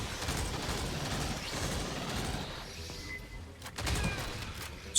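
Gunfire in the video game Aliens: Fireteam Elite, a sustained burst of rapid shots and clattering mechanical noise that fades partway through, then a couple of sharper blasts return near the end.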